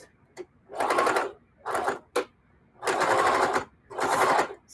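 A home sewing machine stitches in the ditch on quilt blocks, running in four or five loud whirring bursts separated by short pauses and quick single stitches, with no voice over it.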